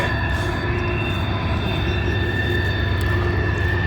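A westbound train with a heritage-painted locomotive rolls past close by, a loud, steady roar of wheels and rail noise with sustained metallic ringing tones throughout, no voices.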